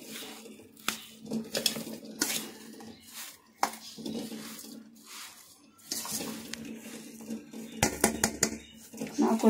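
Sugar is stirred into crumbly sweet potato puttu in a metal vessel, a spoon scraping and clinking against the sides in an irregular run of close, moderately loud strokes, with sharper taps near the end and no talking.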